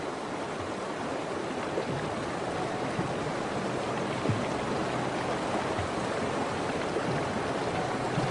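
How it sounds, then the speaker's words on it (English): Cold, fast-flowing river water gives a steady, dense rushing roar, even and unbroken throughout, with no voices. "But the waters are cold and fast."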